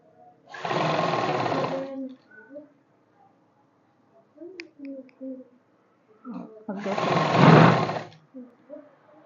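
A sewing machine stitching a simple plate-style kurti runs in two short bursts, close and loud, with someone speaking briefly between the runs.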